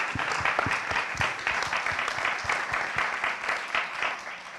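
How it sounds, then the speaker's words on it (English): An audience at an Italy-focused Oscars 2023 event breaks into steady, dense applause, many hands clapping at once, moderately loud and continuous throughout. "I would like to give her a round of applause."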